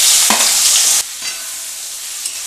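Fried vegetables hit a pan of ghee with bay leaf, cardamom, cashews and raisins, giving a loud burst of sizzle for about a second, then quieter stirring and scraping.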